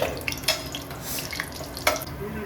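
Pulao spices dropped into hot ghee in a pan, a soft sizzle with a few sharp crackles and stirring scrapes, fairly quiet and close, no talking.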